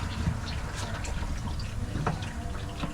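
Coolant water draining from the opened drain knob on a DD15 engine in a 2018 Freightliner Cascadia truck, a soft trickling, splashing flow with scattered drips, fairly close and continuous for a few seconds.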